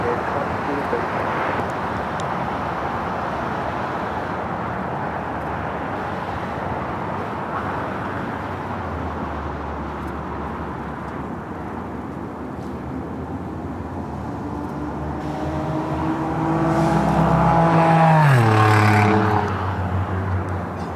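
A jet airliner, Alaska flight 641, rolls for takeoff on runway 25 right at LAX, a broad distant roar with a rising whine that swells and peaks near the end, over steady outdoor wind and traffic noise.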